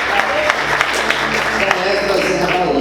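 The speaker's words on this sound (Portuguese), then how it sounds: "Mais forte as palmas, aleluia!" A church congregation claps at a worship service, giving dense, sustained applause close by. Loose clapping runs steadily throughout, with voices mixed in underneath.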